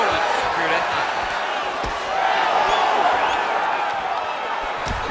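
Crowd noise from a UFC 5 video game bout between Kayla Harrison and Amanda Nunes, a steady roar of an arena audience with brief sharp thuds from strikes, continuous and fairly loud throughout.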